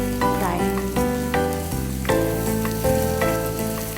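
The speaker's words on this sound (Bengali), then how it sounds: "সো এই যে তেলটা গরম হয়ে গেছে, আমি এখন পেঁয়াজ দিয়ে নিচ্ছি।" A cup of onions sizzles and fries in hot oil in a home kitchen pan, a steady bright crackle that runs throughout, with tonal music playing clearly over it and no talk.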